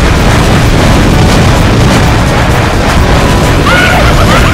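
Fire blasts in a Mario Party 4 minigame, a dense continuous roar of booming bursts filling the whole stretch with game music and effects layered on top, loud throughout.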